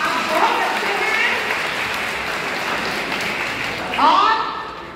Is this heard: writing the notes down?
no